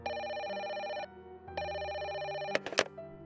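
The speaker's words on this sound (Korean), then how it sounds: "저녁 식사 중에 전화벨이 울렸습니다." A telephone bell rings in two long electronic bursts separated by a short pause, followed by a brief clatter, at moderate volume with no talking.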